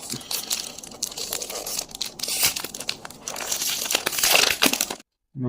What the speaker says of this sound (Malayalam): അപ്പം എന്തായാലും അൺബോക്സ് ചെയ്യാം